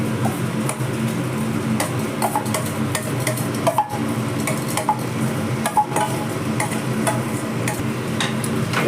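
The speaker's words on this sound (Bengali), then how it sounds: "এবার ভালো করে ঘিয়ের মধ্যে এটাকে একদম ভালো করে কষিয়ে নেব" Amla being stirred in hot ghee in a pan while making chyawanprash, a steady run of scraping and clinking spatula strokes against the pan with a soft sizzle beneath, close and without talk.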